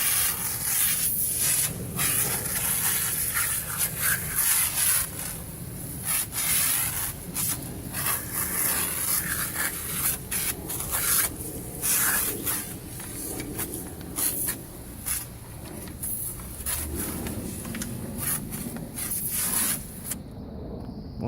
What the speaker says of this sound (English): Switch over to my pressure wash. It's all pumped up, ready to go.